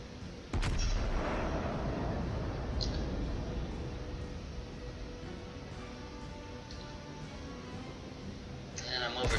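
Main guns of the battleship Iowa firing in World of Warships: a loud, close cannon blast opening a long rumbling roar that fades slowly, with faint later shots and a fresh boom at the very end.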